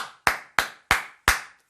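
Four sharp hand claps in a steady, evenly spaced rhythm, close and crisp, each with a quick decay and no talking underneath.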